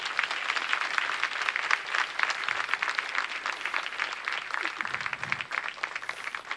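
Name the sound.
congregation applause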